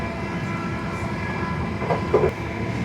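Steady interior rumble and clatter of a London class 720 electric train in motion between stations, with continuous wheel-on-rail noise and faint clicks, no talk.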